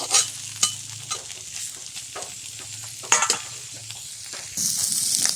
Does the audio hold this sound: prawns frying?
yes